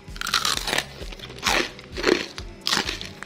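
Repeated crunchy bites into a fried boiled-egg snack with a crisp coating, four loud crackling crunches spaced about a second apart with chewing between, close up and alone.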